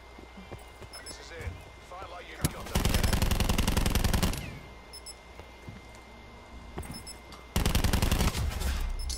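Gunfire in Call of Duty: Black Ops 4 hardcore team deathmatch: two loud sustained automatic bursts roughly a second and a half long, with single shots and game effects between them, while players talk over the action.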